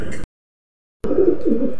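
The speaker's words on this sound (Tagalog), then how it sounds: "Ayan na yung ibon natin mga kalapatids. Nandito na siya." A racing pigeon coos softly and close after arriving, two brief bursts of low throaty cooing separated by a short silence.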